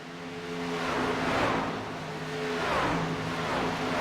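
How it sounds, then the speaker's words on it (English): Racing truck engines roar in a video game truck series race at Texas Motor Speedway, a steady loud drone with pitch swelling and fading as trucks pass, and no voices. "Go ahead and raise up this engine noise."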